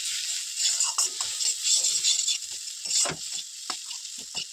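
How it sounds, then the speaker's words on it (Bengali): Spices with turmeric and cumin powder are stirred in a hot pan, with a bright sizzle and a run of uneven scraping taps from the spoon. No one speaks. "এবার এটাকে আমি ভালোভাবে নেড়ে নিব কিছুক্ষণ।"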